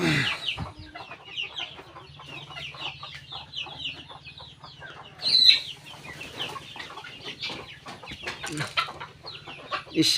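Chickens cluck in a muddy, rain-soaked coop, a steady stream of close clucks and squawks with a louder squawk near the middle.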